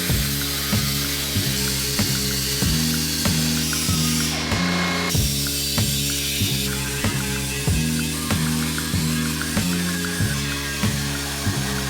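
An air tool fitted with a bolt-mounted cutting wheel, used for building cars, runs in a steady, close mechanical rhythm with repeated regular pulses of buzzing tone and no talk over it.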